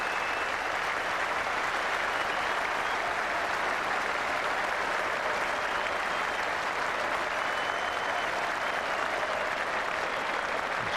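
Cricket crowd at Edgbaston applauding Marcus Trescothick's century in a 2002 England v Sri Lanka test, a dense, sustained roar of clapping filling the ground evenly from start to finish.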